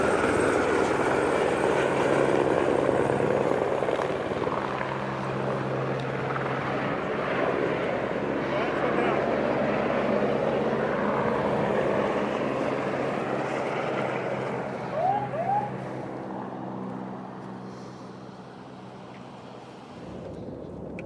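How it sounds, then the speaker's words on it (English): A US Customs helicopter flies over the US–Mexico border near Yuma, Arizona, its steady rotor and engine roar loud and continuous, tapering slightly toward the end. "Customs helicopter in action."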